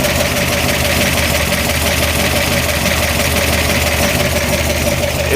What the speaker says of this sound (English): Nothing beats the rattle of 16 lifters clattering away, huh?